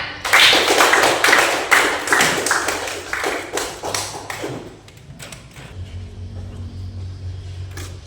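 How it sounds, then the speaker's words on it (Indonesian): Classroom students clapping together in a rhythmic burst of tapping claps for about five seconds, then fading into quiet room noise with a low hum. "Tepuk tangan."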